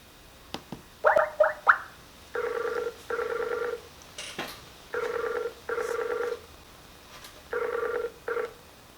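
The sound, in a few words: telephone call ringing, unanswered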